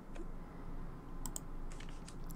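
Fast, irregular computer keyboard typing and clicking during a Black Closet game session, faint and close, with a few sharper clicks scattered through.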